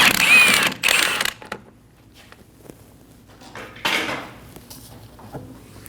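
A lug stud comes out and the rear wheel is pulled off a Volkswagen Passat during a brake job: metallic clanks and a scraping rattle open the clip, then quieter clicks, and a second metal clatter follows midway.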